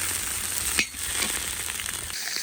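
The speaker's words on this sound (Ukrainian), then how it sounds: "Осмажуємо наші реберця до золотого кольору." Pork ribs frying in a cauldron over a campfire until golden, a steady dense sizzle throughout with a brief stirring or scraping sound near the start.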